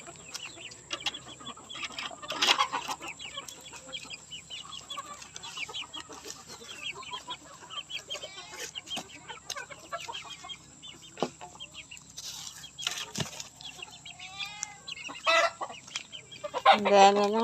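Roosters and chickens kept on a rural farm in the province, clucking steadily with a crow near the end. The birds sound close and fairly loud. A person speaks intermittently over them.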